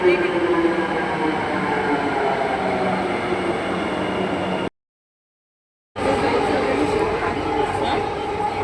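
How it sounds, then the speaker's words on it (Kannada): A Bangalore Namma Metro Yellow Line train rumbles steadily on the rails with a loud, continuous roar, briefly cut to silence midway before the same noise resumes. "ಫೈನಲಿ ನಮ್ಮ ಮೆಟ್ರೋ ಬಂತು."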